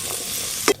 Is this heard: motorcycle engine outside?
no